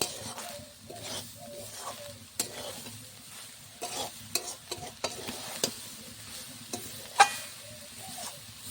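Grated coconut cooking with sugar in a pan, a sweet filling for steamed pitha, gets stirred in irregular scraping strokes over a soft, continuous sizzle, fairly close.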